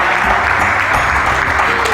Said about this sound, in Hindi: तालियां तो बजाइए, मेंटर हैं।